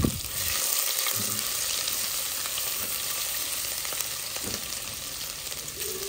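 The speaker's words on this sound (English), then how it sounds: "The pieces of garlic, you just grind them a bit and cook them." Ground garlic pieces and ginger fry in a hot pan, a loud, continuous sizzle running steadily throughout, with no talking.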